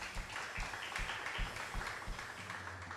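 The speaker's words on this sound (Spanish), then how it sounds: "Dale un aplauso al Señor." A church congregation claps for the Lord during a sermon, making a steady wash of many hands with a pulsing, rhythmic beat throughout and a low hum near the end.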